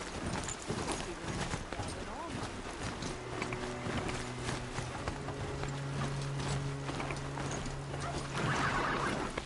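Machine mount in Horizon Zero Dawn trots along with steady, mechanical clip-clop hoofbeats, a faint droning hum joining partway, while a person talks over the ride.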